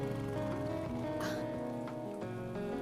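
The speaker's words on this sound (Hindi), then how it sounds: "बारिश हो रही है" Rain falls steadily and loudly at a bus stop in an action film scene, a dense continuous hiss that fills the whole stretch with no voices over it.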